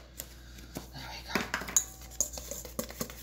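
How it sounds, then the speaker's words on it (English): A whisk clinks and scrapes against a bowl while mixing blueberry bran muffin batter, giving quick irregular metallic taps close by, with no talking. "Whisk this together. Use a whisk."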